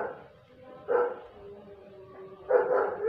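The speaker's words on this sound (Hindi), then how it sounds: "पीछे कुत्ते का भौंकने की आवाज़ आएगी" A dog barks twice in the background, two short clear woofs a moment apart over a quiet, faintly humming room.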